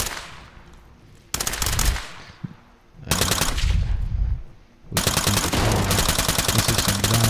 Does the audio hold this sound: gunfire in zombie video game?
yes